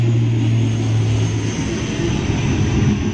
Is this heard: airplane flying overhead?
yes